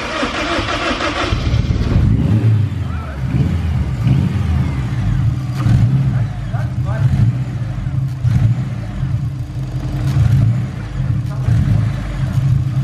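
A turbocharged Honda S2000 engine runs rough and struggles under throttle, a loud uneven drone with a harsh burst at the start, while people talk nearby.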